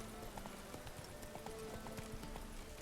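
Hooves of the horse Roach in Witcher 3, a quick rhythmic clip-clop galloping at moderate distance, with faint background game sound.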